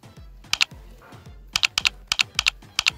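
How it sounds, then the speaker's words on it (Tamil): A name is typed on a computer keyboard: crisp, close clicking keystrokes in quick clusters, one pair near the start and then a rapid run of taps. "நான் சும்மா சாம்பிளுக்கு என்னுடைய பேரை டைப் பண்ணி காட்டுறேன்"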